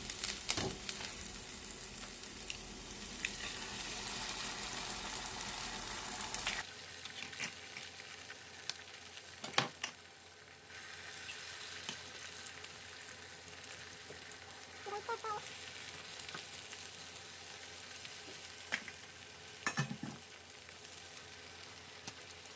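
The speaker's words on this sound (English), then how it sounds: "So now we're going to just break in our egg." An egg is broken into a pan on high heat while fried rice is being made, and a loud, steady sizzle fills the first seconds. After that the frying settles into a quieter crackle, with a few sharp utensil clinks.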